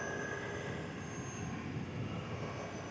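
Ford F250 Dentside pickup with a swapped 7.3 diesel engine accelerating hard up a freeway on-ramp, a steady broadband roar that holds level for the whole stretch, close and loud, with no talking.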